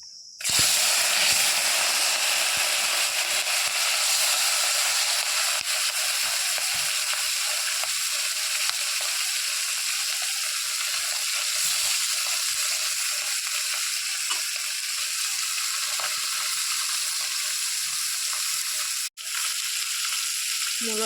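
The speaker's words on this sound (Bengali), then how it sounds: "মুরলা মাছ ভাজা হচ্ছে" Murola fish sizzle steadily in hot white oil in a wok, a dense, even hiss that fills the whole stretch with only a brief dip near the end.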